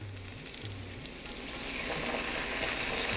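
Batter poured into a hot pan for desi paneer chilli, frying with a continuous bright sizzle that grows slightly louder over a few seconds.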